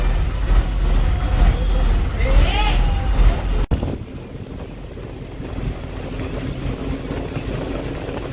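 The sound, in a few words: riding inside an APSRTC bus in Tirumala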